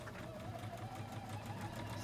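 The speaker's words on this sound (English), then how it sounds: "It's back stitching, it's gonna cut and lift the presser foot." Juki DX 3000 QVP computerized sewing machine back-stitching, then automatically trimming the thread and lifting the presser foot, a quiet steady mechanical hum with faint rapid ticking throughout.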